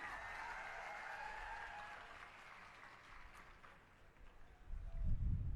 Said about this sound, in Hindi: जोरदार तालियों से ये बता दीजिए कि ये आंधी का हिस्सा आप भी हैं।